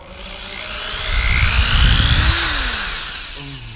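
A power drill runs during repair of a Nissan 350Z front lip, a steady whirring tool sound that swells louder through the middle and eases off at the end, with no talk.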